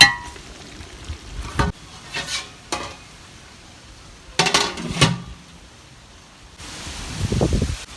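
A ladle stirs chicken biryani in Dindigul style in a metal pot, giving several separate scraping, rustling strokes with short quiet pauses between them, close and fairly loud.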